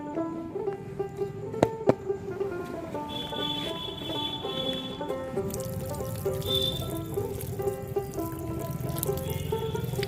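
Water is poured from a can onto a freshly repotted crassula in soilless mix, a steady trickle and splash running continuously for about ten seconds with faint background noise.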